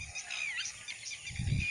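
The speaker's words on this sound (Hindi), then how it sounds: "तो पंछी कितना अच्छे चिल्ला रहे हैं" Birds call outdoors near rural fields, a cluster of short high chirps and honk-like cries over a quiet background, with a low rumble near the end.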